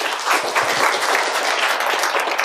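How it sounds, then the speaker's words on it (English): Audience at a business talk applauds, a dense, fairly close wash of clapping that holds steady throughout without voices. "Round of applause."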